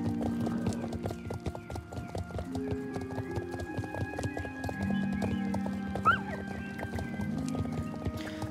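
Horse hooves clip-clop steadily along a rough, poorly kept road in the online horse-riding game Star Stable Online, with a neigh and background game music; the rhythmic hoofbeats run continuously and close.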